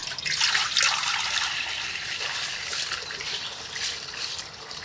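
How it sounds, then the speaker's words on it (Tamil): Water pours steadily into a cooking pot to boil beef brain, with a bright splashing hiss, strongest at first, then settling into an even stream. "மூளை வேக வைக்க தண்ணி சேர்த்துக்கலாங்க."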